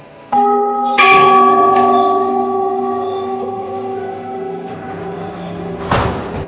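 Metal temple bells are struck at the Golu Devta temple in Almora, Uttarakhand. Two close strikes near the start ring out in a long, shimmering decay, and another clang follows near the end.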